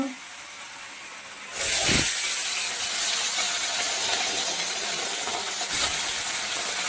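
Fish drops into hot oil, setting off a sudden loud, steady frying hiss that carries on close by, with a brief clatter when it goes in and another flare of sizzle later.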